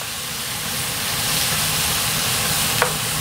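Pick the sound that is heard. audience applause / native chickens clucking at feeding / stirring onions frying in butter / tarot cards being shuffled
stirring onions frying in butter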